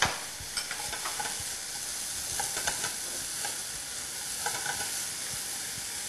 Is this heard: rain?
no